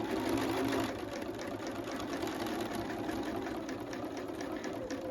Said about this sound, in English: as we're approaching the corner, we need to just sew to 1/4 of an inch from the edge.